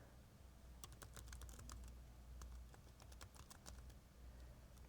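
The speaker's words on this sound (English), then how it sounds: "So I'll type that in." Fingers tapping keys on a computer keyboard in quick clustered bursts, close but quiet over a low steady hum, with no talking.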